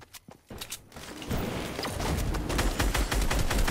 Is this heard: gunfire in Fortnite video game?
yes